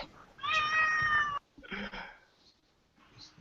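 A cat meows in two or three drawn-out calls, close and fairly loud, with a shorter faint mew at the end and brief quiet gaps between.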